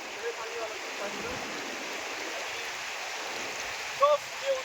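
A deep river flows in a steady, even rush of broadband hiss, close and continuous, with a couple of faint brief sounds near the end.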